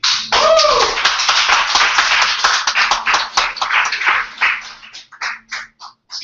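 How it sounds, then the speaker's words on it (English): Audience applause breaks out after a spoken poetry performance, a dense burst of clapping that thins to scattered, separate claps near the end, with no talking over it. "Let's give another round of applause for Jay there."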